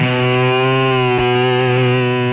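A heavily distorted Telecaster electric guitar drones a sustained chord through effects, loud and steady, with a brief pick attack partway through and no voices.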